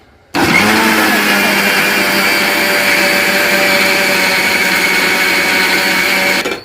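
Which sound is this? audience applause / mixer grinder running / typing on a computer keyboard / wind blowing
mixer grinder running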